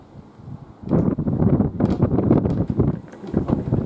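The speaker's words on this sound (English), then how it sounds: "even the bins are being blown by this wind" Strong outdoor wind buffets the microphone in loud, sustained gusts with rustling, during a CO2 pistol shooting session outdoors.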